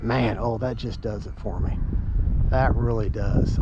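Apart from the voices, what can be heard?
No distinct noise like a dog, phone or traffic.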